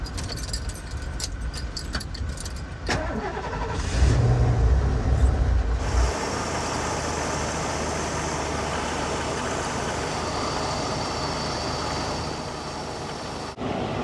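An RV engine starts and settles into a steady low idle rumble, with a brief louder burst at the start before it evens out, heard close and without talk.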